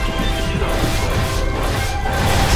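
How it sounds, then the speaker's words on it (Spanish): Grenade explosion in the video game Binary Domain, a loud crashing, smashing burst that fills the whole short moment with dense noise and rumble, close and harsh, with no speech over it. "Voy a intentarlo con granada"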